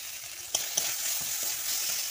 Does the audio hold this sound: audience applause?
no